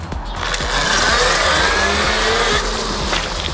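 A modified Funbike MXR1500 electric bike boosted to 5000 watts pulls away at full throttle from a standstill, giving a loud continuous whine and rising motor hum with gritty mechanical rattle, close and dominant, and no talking.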